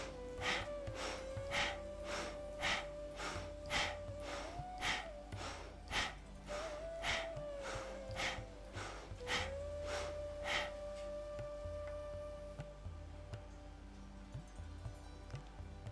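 Bhastrika pranayama breathing drives about fourteen forceful, evenly spaced nasal breaths in and out over a steady background tone, then stops and leaves only the tone.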